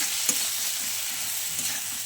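Puti fish frying in a pan with onion and tomato, a steady hiss of sizzling oil with soft scraping from stirring throughout, fairly close and even in level.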